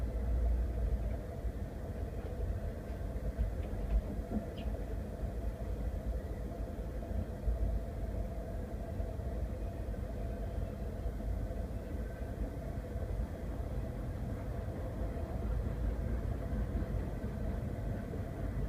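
A train passes with a continuous low rumble that stays even and steady for the whole stretch, moderately loud and with no one talking.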